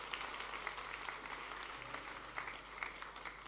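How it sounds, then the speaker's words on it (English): Church congregation at a combined service clapping steadily for its newly dedicated leaders, a quiet, even patter of many hands spread through the room with no break. "Let's give God a clap offering to the Lord this morning."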